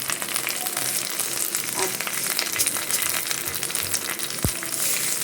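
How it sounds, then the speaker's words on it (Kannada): Mustard seeds and curry leaves frying over a low flame in a pan for a Mangalore village-style prawn curry. A steady, dense sizzle runs throughout, with sharp popping crackles and no talk. "ಸಾಸಿವೆ ಚೆನ್ನಾಗಿ ಹುರಿ ಆಗಬೇಕು, ಈ ರೀತಿ ಫ್ರೈ ಆಗಬೇಕು. ಅಂದರೆ ಟಕ್ ಟಕ್ ಅಂತ ಸೌಂಡ್ ಬರ್ತದೆ ನೋಡಿ, ಸಿಡಿಯುತ್ತದೆ"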